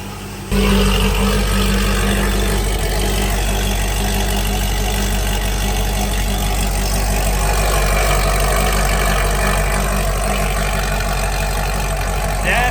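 A Corvette C6 engine with new Speed Engineering exhaust headers starts and settles into a loud, steady idle with a deep, rumbling exhaust note that holds evenly throughout.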